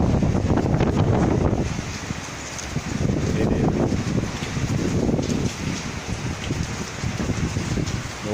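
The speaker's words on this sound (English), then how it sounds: "The wind is a-blowing." Gusty wind roars against the microphone during a rainstorm outside a Cambodian apartment, swelling and easing in loud rumbling surges over a constant hiss of rain.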